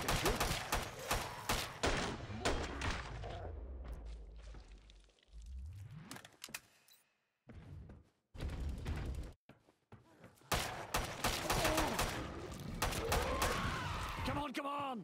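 Gunfire in the shooter game Killing Floor 2 comes in loud, rapid bursts separated by brief pauses and quieter stretches, with thuds and impacts mixed in and a voice talking between volleys.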